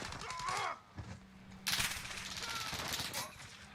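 Bursts of automatic gunfire from the video game Call of Duty Warzone rattle over game ambience, fairly loud, with a couple of voices talking over them.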